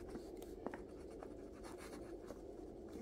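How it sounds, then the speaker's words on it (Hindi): A formula being written on a board during a calculus lecture, a steady scratchy writing sound running continuously for a few seconds, close and fairly quiet with no talking. "फॉर्मूला मैं यहाँ पे लिख देती हूँ"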